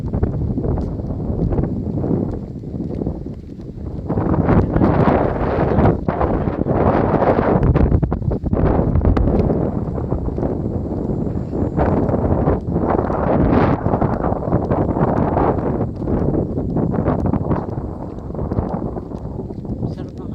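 Wind gusts steadily across the microphone with a continuous rumbling roar, swelling and easing, while indistinct voices are partly buried underneath.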